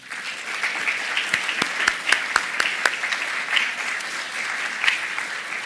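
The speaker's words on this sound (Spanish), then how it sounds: "pido un aplauso para él" A seminar audience at a genomics conference gives a warm round of applause for a prize-winning doctor, dense continuous clapping from many hands with a few sharper individual claps standing out.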